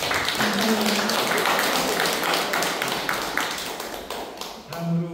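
Audience applause at a Korean poetry book launch held in a community hall gallery, a dense, steady patter of many hands clapping for about five seconds, with a voice speaking briefly at the end.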